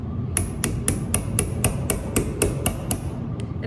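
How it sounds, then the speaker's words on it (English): A hammer strikes a chasing tool against a metal vessel in a steady, even rhythm of about a dozen sharp, ringing metallic taps, loud and close with no talking. "you want to make sure that you're constantly moving your tool and your hammer"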